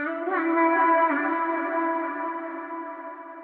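A sustained vocal note heavily processed with auto-tune pushed far down in formant and bit-crushed, with a brief pitch slide near the start before it holds steady and slowly decays.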